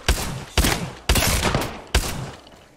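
Four sharp, loud gunshots from the video game Apex Legends, fired close together with short reverberating tails between them.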